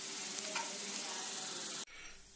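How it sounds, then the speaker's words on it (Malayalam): Onions sautéing in a pan for a macaroni cake give a steady close sizzle with a faint stir, then the sound cuts off abruptly near the end. "അപ്പം ഉള്ളി വഴഞ്ഞു വരുന്നത് വരെ നമുക്കൊന്ന് വെയിറ്റ് ചെയ്യാം"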